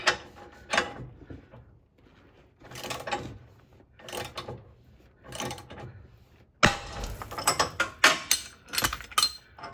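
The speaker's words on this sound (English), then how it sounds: "we popped out the ball joint" Front lower control arm on a 2018 Subaru Forester as the ball joint is pressed out: repeated ratcheting, creaking clicks in short bursts, ending in a louder flurry of metallic clunks and clatter.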